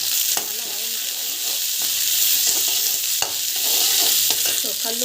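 Chopped onion sautés in hot oil, a dense, steady sizzle with scraping stirs and a few sharp knocks from the spoon against the pan.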